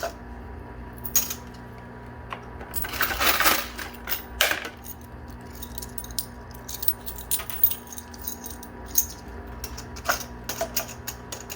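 Coins clinking and rattling as they are scooped out of an arcade coin pusher machine's tray, a loud jingling burst early, then scattered metallic clicks.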